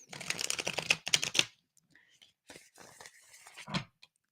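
A deck of playing cards being shuffled hard, a quick riffling burst up close, then a pause and a few softer card rustles, with quiet talk in the gaps.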